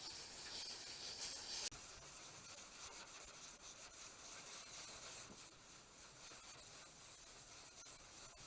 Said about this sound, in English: is wet sanding off the rust. He's just using water because it's less corrosive than using straight sandpaper.